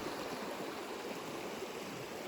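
Continuous rushing and burbling of Salmon Creek flowing nearby in the Allegheny National Forest, steady and unbroken with no voices.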